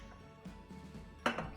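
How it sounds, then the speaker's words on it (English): Ingredients for no-bake cookies get dumped into a cooking pot, heard as a quiet scrape followed by a brief clunk and rustle against the metal, all soft and close. "All right, you can dump it in the pot"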